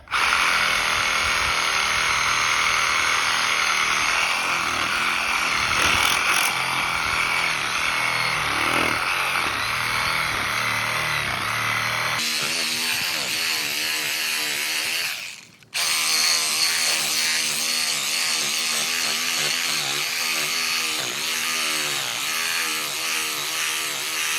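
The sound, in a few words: sawzall reciprocating saw with old blade cutting into ground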